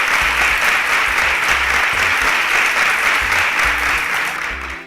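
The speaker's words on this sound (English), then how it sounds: "Ladies and gentlemen, a round of applause for Oremei Aka." A grand finale audience bursts into dense, sustained applause that holds loud and even for about five seconds before tapering slightly at the close.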